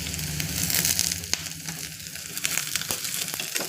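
Soy chunks (meal maker) frying in hot oil with ginger-garlic paste give a steady, close sizzle with a few sharp crackles and stirring clatters, no voices.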